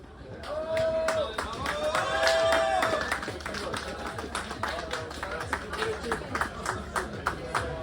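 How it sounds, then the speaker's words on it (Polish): Spectators applaud riders on the podium at a winter Poland Bike Marathon 2023 ceremony in Otwock, with steady clapping and crowd murmur under voices that swells early and then settles into lighter, scattered claps. "Wielkie brawa"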